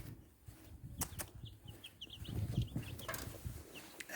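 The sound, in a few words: baby chick cheeping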